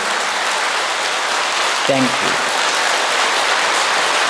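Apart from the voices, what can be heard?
audience applause for donors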